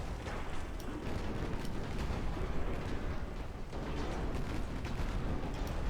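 Torpedoes strike a ship in the naval video game Dreadnought, giving a steady roar of explosions and rumbling impacts that stays loud and continuous.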